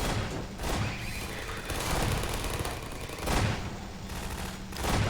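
Turret gunfire in Half-Life 2: dense rapid automatic bursts that swell in a few waves over a continuous loud clatter, with no voices.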